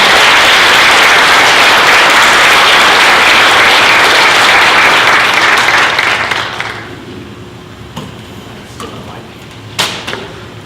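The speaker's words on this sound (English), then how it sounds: "let's give them a round of applause" An audience at an Arizona Corporation Commission candidate forum claps for the candidates in a dense, sustained round that tapers off after several seconds, leaving scattered claps and a few soft thumps in a quieter room.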